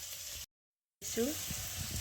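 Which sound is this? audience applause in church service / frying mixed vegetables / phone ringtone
frying mixed vegetables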